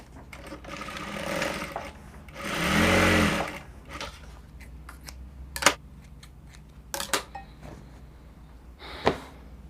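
Sewing machine stitching darts in a bustier blouse, one short steady run of motor whir, then scattered clicks and fabric handling in a quiet room.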